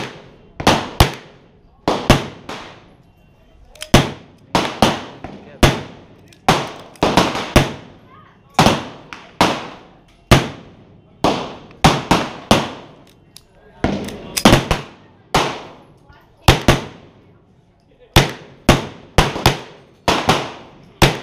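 Around forty rounds of handgun fire aimed at a target on a range, sharp loud individual shots in uneven bursts and pairs spread across the whole stretch, each cracking report decaying quickly.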